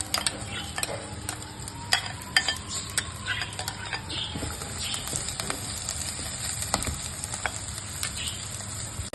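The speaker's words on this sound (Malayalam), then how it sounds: "ഇത് ചൂടായി കഴിയുമ്പോൾ നമ്മൾ ചെറിയൊരു സബോള, ഇഞ്ചി, പച്ചമുളക്, ഉള്ളി, കറിവേപ്പില അത് നമ്മൾ ഇട്ട് കൊടുക്കണം ആദ്യം" Onion, ginger, green chilli and curry leaves sautéing in hot coconut oil for a Kerala sardine pepper masala, a steady close sizzle with frequent spoon scrapes and stirring clatter against the pan.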